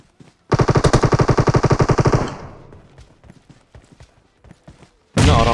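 PUBG Mobile gunfire rips out as a loud, rapid automatic burst lasting about two seconds. Scattered single shots follow, then another heavy burst starts abruptly at the end.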